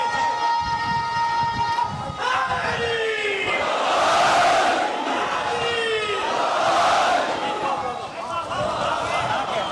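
Crowd at a Muharram majlis gathering chanting slogans in loud, swelling collective bursts, with two big surges rising over a speaking voice.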